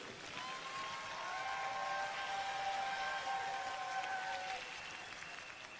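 A church congregation at a joint Korean worship service applauds to welcome two pastors: a soft, continuous, distant-sounding wash of clapping with faint sustained tones underneath, swelling slightly and then easing off.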